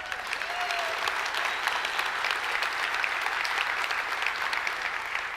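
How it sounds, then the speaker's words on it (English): An audience applauds at the DevOps World | Jenkins World 2018 tech conference in San Francisco, a big hall of sustained clapping with a faint murmur of crowd noise beneath it. "let's give them a round of applause."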